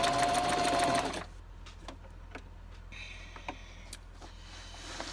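A sewing machine stitches a zigzag stitch on a journal card, a loud, rapid mechanical whirring burst lasting about a second, then quieter ticks and small handling clicks.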